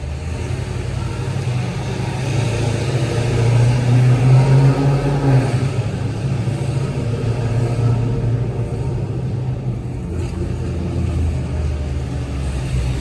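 Dodge Hellcat Redeye idling with a deep, steady rumble inside a parking garage, the low drone swelling slightly midway and holding on with no talk over it.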